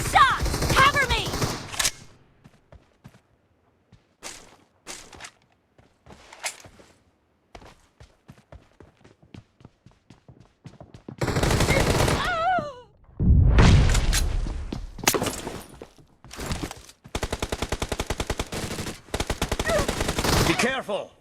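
Skorpion pistol shots ring out in a team deathmatch video game, with scattered bursts of rapid fire, footsteps and booms between quiet gaps, and game voice lines heard between the shots.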